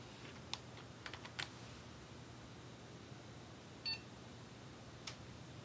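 A faint, short electronic beep comes from a Dell Inspiron 530 desktop computer that won't turn on properly, set against a low steady hum with a few scattered soft clicks and taps nearby.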